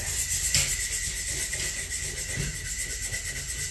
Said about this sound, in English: she's going to go ahead and sand it a little bit